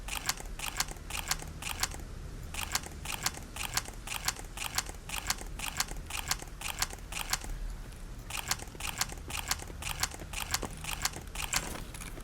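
Repeated metallic clicks and clacks of weapons being reloaded in Escape From Pripyat, sharp transients coming in a steady rhythm for about twelve seconds over a low hum, close and fairly loud.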